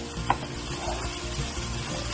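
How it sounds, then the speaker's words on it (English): Mushrooms and onions sautéing together in European butter over medium-high heat, a soft sizzle under gentle scraping and stirring in the pan, with one brief sharp tap near the start. "I'm sauteing the mushrooms and onions together"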